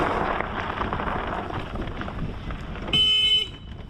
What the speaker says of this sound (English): The horn does not make you go through sand.